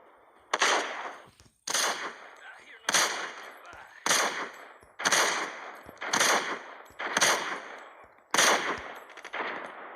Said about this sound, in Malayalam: നിങ്ങൾക്ക് കാണുന്നില്ലേ? അവൻ വെടി വെക്കുന്നുണ്ട്.